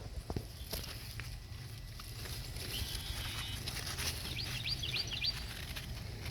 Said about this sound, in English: Listening to the birds and the frogs.